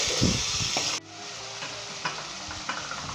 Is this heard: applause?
no